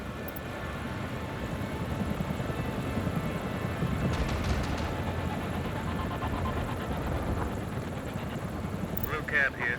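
Cheetah gunship helicopters in Tom Clancy's EndWar roar with a steady, dense rotor-and-engine drone that fills the whole stretch, joined by brief mechanical bursts near the middle and end of the battle.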